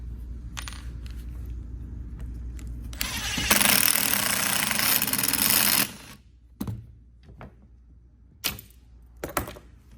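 Impact driver driving square-bit screws into wooden face frames, a loud rattling hammer burst of about two seconds followed by a few short clicks and knocks, with no talk.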